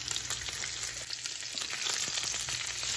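Meat and onion frying together in a pan, giving a steady close crackling sizzle with faint scrapes of stirring and no speech.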